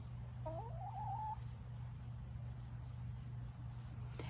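A rooster crows once, faint and somewhat distant, over a steady hum of insects and background noise.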